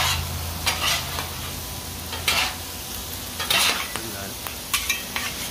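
Hamburger meat fries in a pan with a steady close sizzle, broken by several sharp scraping stirs of a utensil against the pan at irregular intervals, no talk.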